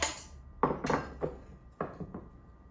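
Cut strawberries and rhubarb tumbling into a cooking pot, about six hollow thuds and clunks in quick, uneven succession, close and fairly quiet.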